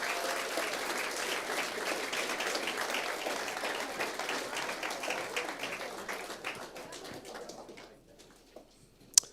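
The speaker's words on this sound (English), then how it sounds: "Give them a great big round of applause as they come up and join us on stage." Crowd applause at an awards ceremony as finalists walk onto the stage, a dense clatter that thins into scattered individual claps and fades out, ending with one sharp tap.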